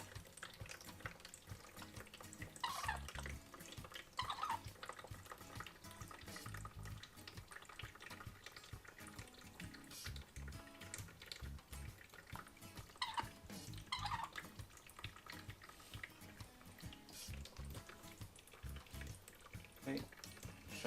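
Tap water running through a LifeSaver Liberty water filter while it is being primed, a steady low wash of flowing water with a few brief louder splashes, close by and continuous.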